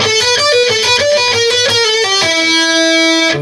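Lead guitar lick, played on a distorted electric guitar as a quick run of picked notes with a pull-off, ending on a sustained held note; loud, close and unaccompanied.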